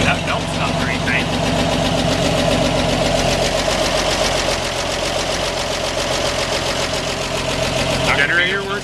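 A 1946 Chevy 2-ton cab-over truck engine idles steadily after a head rebuild, a loud continuous running rumble with rough knocking texture throughout, and people talk nearby over it.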